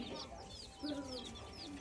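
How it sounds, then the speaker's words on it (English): Small chickens of mixed kinds clucking softly and fairly far off in an outdoor yard, a few short clucks over faint background noise. "Oh, there's some little chickens."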